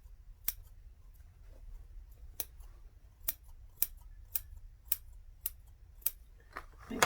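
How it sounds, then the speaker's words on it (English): Small scissors make quick snips into a fabric bag gusset, about ten sharp isolated cuts spaced roughly half a second to a second apart, close and fairly quiet against a low background hum. "Do some little snips on your gusset."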